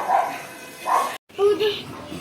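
A dog barks a few times in a home in Majuli, the barks sharp and fairly close, overlapping with people talking nearby.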